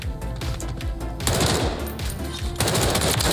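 Assault rifle gunfire in a shooter video game, dense rapid automatic bursts that are loud and continuous, with brief changes in intensity as firing continues.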